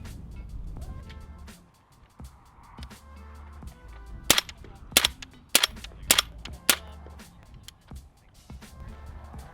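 Several suppressed 300 Blackout rifle shots firing 220 grain S&B subsonic ammunition through a large suppressor, sharp muffled cracks spaced about half a second apart in a cluster, with a few fainter pops earlier over a low background rumble.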